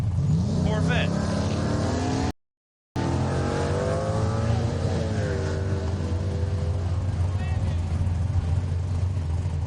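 A 1980 Camaro and a 2006 Corvette drag racing: a loud, droning engine roar with shifting pitch runs throughout, cut by a brief silent gap. A voice talks over it.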